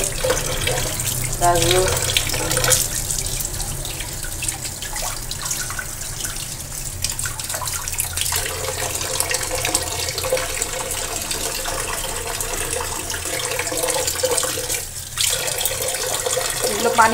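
Tap water runs steadily into a kitchen sink while vegetables such as carrots and tomatoes are rubbed and washed by hand, a continuous splashing stream close by with a short spoken word over it.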